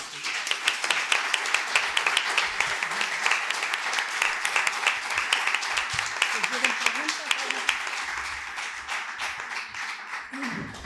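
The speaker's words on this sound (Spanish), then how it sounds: "Un aplauso muy grande para ustedes." Sustained applause from an audience honoring translators at an International Translation Day event, dense steady clapping over about eleven seconds with brief voices faintly under it.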